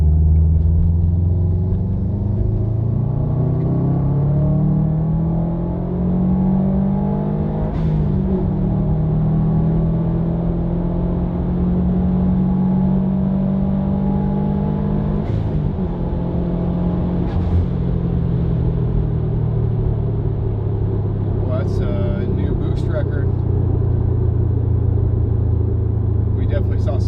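A 2019 Subaru STI engine drones and climbs in pitch under load during a tuning pull, a sustained loud rev with slight wavering, stock-turbo whine at 22.5 psi boost on top, with a voice talking over it.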